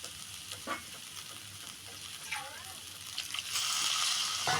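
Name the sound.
stirring potato kurma after adding water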